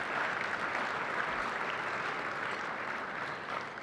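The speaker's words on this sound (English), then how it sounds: "Can I please get a round of applause" An audience gives a steady round of applause at a business forecast event, dense continuous clapping that holds at moderate volume before easing slightly toward the end, with no talking over it.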